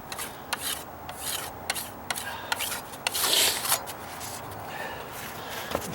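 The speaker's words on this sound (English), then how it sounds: "I can wipe it back down just on the edge, with the edge of my trowel" A trowel edge scrapes and rubs Fix-It-All filler across wooden deck stairs under dry-rot repair, making short rasping strokes close by in an irregular rhythm, with no talking.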